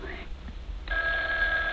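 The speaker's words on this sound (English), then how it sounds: "it's the phone ringing" A telephone rings in an old radio mystery drama: after a moment of quiet room tone, a steady, fairly bright ring starts and carries on, sounding somewhat distant.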